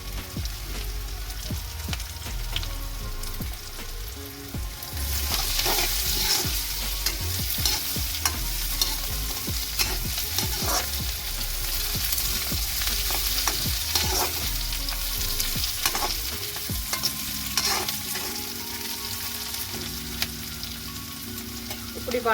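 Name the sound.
sautéing curry leaves in a pan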